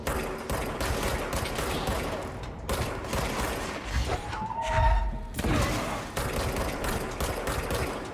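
Rapid gunfire from the shooting video game Control, dense bursts of shots filling the scene with a heavier impact thud in the middle, loud and continuous throughout.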